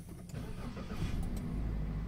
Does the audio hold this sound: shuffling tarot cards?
no